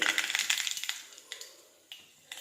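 Mustard seeds pop and crackle in hot oil in a kadai, a quick run of sharp ticking bursts that thins out into a few scattered pops.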